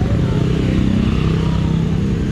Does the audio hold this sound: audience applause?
no